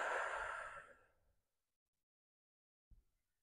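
A slow, audible exhale during a yin vinyasa yoga breathing practice: a close, breathy rush that starts full and fades away over about a second and a half into silence, then a brief soft bump.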